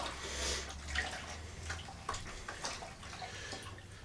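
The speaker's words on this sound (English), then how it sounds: "So now I'm stirring up the jeans" Jeans are stirred in a bucket of black Procion dye water, giving faint, soft sloshing and dripping that rises and falls in small surges, close and quiet.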